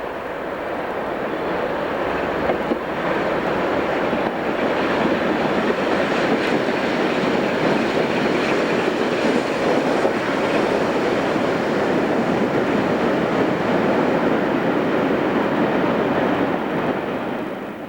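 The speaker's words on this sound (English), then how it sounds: "This is Merchant Navy Class 35005 Canadian Pacific with the Merchant Capitalist from Crewe to Victoria." Merchant Navy Class steam locomotive 35005 Canadian Pacific hauls a rail tour train, heard as a loud, steady, continuous rumbling roar of the passing train that fades slightly at the end, with no voices.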